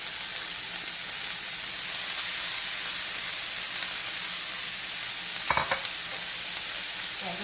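A Jamaican cabbage stir fry with sweet peppers, parsley and purple onion fries in a pan, giving a steady dense sizzling hiss throughout, broken by one brief utensil scrape near the end.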